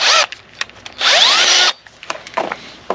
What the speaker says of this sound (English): drill all these holes out to 9 mil.